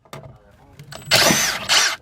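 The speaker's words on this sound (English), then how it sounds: "we're just gonna drill through like this" A power drill bores a small pilot hole through the floor of a second-generation Camaro to mount GTO seats, its motor whining in two loud close bursts after some quieter handling noise.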